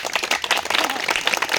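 Audience clapping after a call to applaud a community worker at a gathering, a dense, fairly loud patter of many hands filling the short moment.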